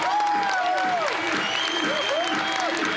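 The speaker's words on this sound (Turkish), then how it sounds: "Seyirciden aldığı alkışla şova devam ediyor." Applause from a fashion show audience, dense and continuous clapping at steady loudness throughout, with gliding tonal sounds, likely music, running over the crowd noise.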